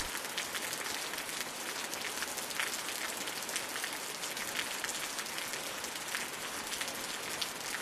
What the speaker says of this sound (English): And the rain sounds sound like skittering bugs.